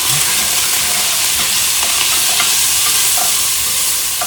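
Spice blend being stirred into onions frying for chipotle chili, with a steady loud sizzle and hiss throughout and faint scrapes of the spoon in the pan.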